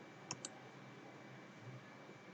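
A computer mouse or keyboard clicked twice in quick succession, faint and close over a steady background hum, then quiet.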